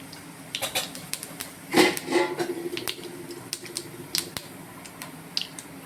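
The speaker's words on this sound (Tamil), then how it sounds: "இப்போ எண்ணெய் காஞ்சிச்சு. கொஞ்சம் கடுகு போட்டுக்கிறேன், 2 ஜீரகம் போட்டுக்கிறேன்" Mustard seeds and cumin hit hot oil in a home kitchen pan, giving close, irregular sharp pops and sputtering crackles that cluster into a brief flurry and then thin out.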